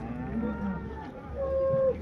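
A cow moos nearby at a cattle market, a low drawn-out call rising near the end, over a quiet background.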